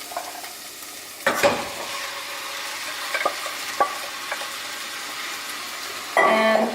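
Meat sizzles and fries in a pan for Brazilian pastel filling, a steady crackle broken by several sharp scrapes of stirring, with a louder burst of sizzling at the end.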